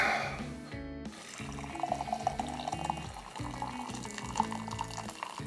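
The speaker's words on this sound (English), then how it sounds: "Can you guys hear the pour?" Oolong tea is poured in a steady, gentle trickle that lasts several seconds, close and moderately quiet over a low, droning tonal background.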